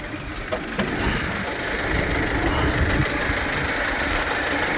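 A van engine idles loudly and close up, a steady low rumble with a faint rhythmic knock that continues without a break.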